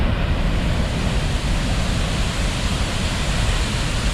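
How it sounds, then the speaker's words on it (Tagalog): Seven Falls at Lake Cebu pours in a loud, constant broadband roar of falling water, close and unbroken, with nothing else standing out. "Yan na yung waterfall."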